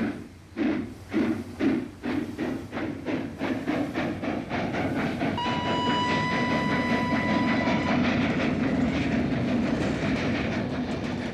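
A cartoon train gets under way, heavy rhythmic chuffs speeding into a dense continuous rumble and clatter, with a sustained whistle tone in the middle, loud and close with no talking.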